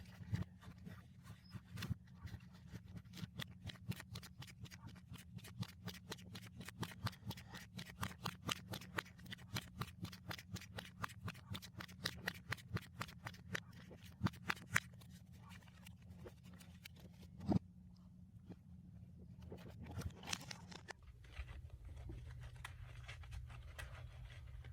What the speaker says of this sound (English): I'm just going to go ahead and shuffle my deck and see what I get.